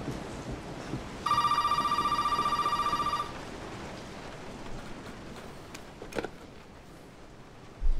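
A telephone in a house rings in the horror video game Resident Evil 7, giving one clear, sustained electronic ring of about two seconds over a low, rumbling ambient background, followed by a faint thud.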